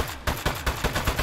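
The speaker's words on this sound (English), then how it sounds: "Feels weird to shoot at the boss, but it's what he wants." Gunshots fired at the boss in Aperture Desk Job, about five evenly spaced punchy shots in quick succession, loud and close.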